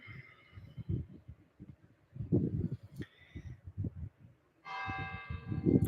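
A bell rings out repeatedly with bright, sustained tones over ongoing talking, clearest in two strong strikes.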